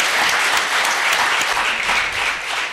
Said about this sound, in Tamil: அரங்கம் மாதிரி ஒரு கைத்தட்டல் வேண்டும் முத்தையாவிற்கு